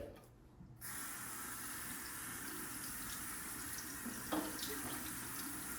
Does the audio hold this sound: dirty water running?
yes